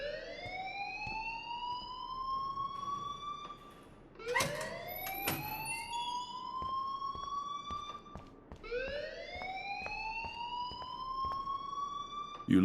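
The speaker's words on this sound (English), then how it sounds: "please turn off that alarm since that's your job" A wailing school alarm in the video game Life Is Strange sweeps up repeatedly in long rising tones, loud and continuous, with brief faint voices breaking in.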